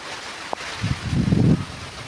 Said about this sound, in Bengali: হালকা বৃষ্টি ফোঁটা পড়ছে,